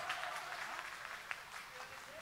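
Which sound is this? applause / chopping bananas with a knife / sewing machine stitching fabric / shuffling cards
applause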